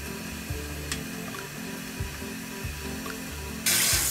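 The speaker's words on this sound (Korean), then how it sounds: "흐르는 물에 헹구고" Cooked noodles are rinsed under running tap water: a steady flow of water with a few irregular clunks, and a louder gush near the end.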